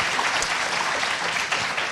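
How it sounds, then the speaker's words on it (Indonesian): A studio audience on an Indonesian television talk show breaks into dense, sustained applause, a steady wash of many hands clapping at close range throughout with no break. "Kita berikan aplaus sekali lagi."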